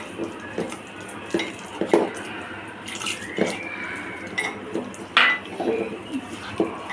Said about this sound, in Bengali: দেখুন আমি কীভাবে বেটারটা গুলাচ্ছি